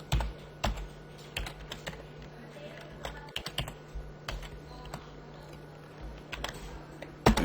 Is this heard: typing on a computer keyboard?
yes